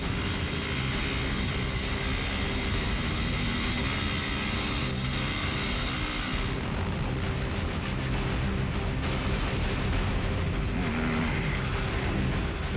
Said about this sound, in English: Both KTM riders Lawrence Mahoney and Lo Schmidt were straight into it